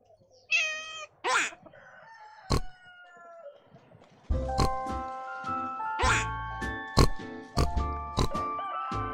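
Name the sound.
duckling imitating piglet oink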